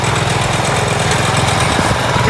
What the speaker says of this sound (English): Probably because of the tractor.